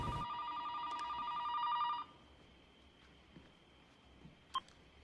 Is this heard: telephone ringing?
yes